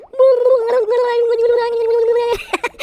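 A human voice imitates an orca call with a sustained, warbling, gurgling whistle-like tone held for about two seconds, ending in a few short clipped bursts.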